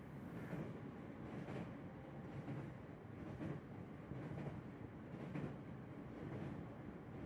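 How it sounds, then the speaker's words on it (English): A steady low rumble inside a Caledonian Sleeper train carriage at night, rolling on the rails with soft rhythmic swells and quiet distant texture, no voices. "As the train hums steadily northward"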